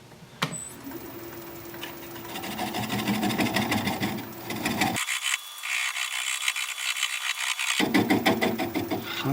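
A 3/8 inch swept back bowl gouge cuts a live edge plum wood bowl on a spinning lathe, giving a steady, close, rasping hiss over the motor's whine that continues throughout, with no voices.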